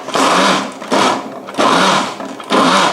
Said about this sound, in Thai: เดี๋ยวไงเราจะปั่นไปเรื่อยๆ จนเครื่องแกงหมด